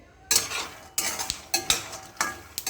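A spoon stirs sesame seeds roasting in a pan on low heat for laddu, giving several close scraping sweeps with light clinks against the metal and a faint sizzle underneath.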